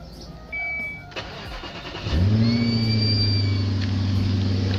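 A Nissan President car engine cranks briefly and then catches, settling into a steady, loud idle that hums on close by.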